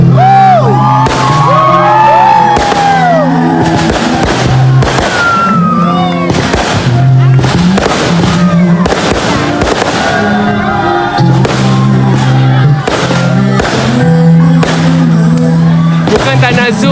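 Fireworks at a wedding celebration, loud, rapid bangs and crackles bursting repeatedly, over a cheering, whooping crowd and music, with voices shouting throughout.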